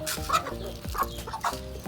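Chickens cluck close by in a few short, quick bursts during rainy, windy weather, with a faint background hum.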